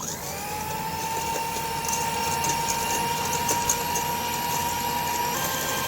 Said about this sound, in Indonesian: Kita mixer sampai dia mengembang ya.